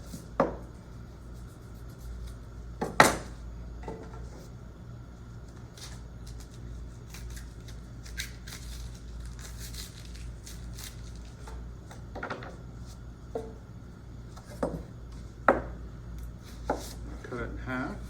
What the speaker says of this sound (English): medium dice this onion.